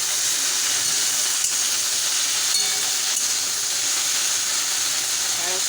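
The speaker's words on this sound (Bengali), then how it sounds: "ঢ্যাঁড়সটা ভাজা হয়ে গেলে আমি ফিরে আসছি" Okra frying in hot oil in a pan makes a steady, close sizzling hiss that holds at an even level throughout, with a few faint clicks and no pause.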